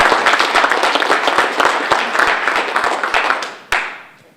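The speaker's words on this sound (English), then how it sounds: "So give yourself a round of applause." At the opening keynote of Joomla Day Florida 2018, a conference audience claps in a lively, fairly close patter of individual hands that thins out toward the end, a last sharp clap ringing just before it trails off.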